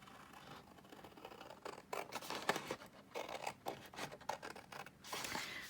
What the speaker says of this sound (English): I'm just going to roughly cut it out to start with.